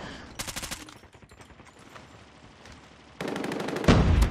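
AS VAL rifle fire in Call of Duty Ground War: rapid automatic bursts, one short burst early, then a quieter stretch, then a long loud sustained volley ending in heavy booming shots close by.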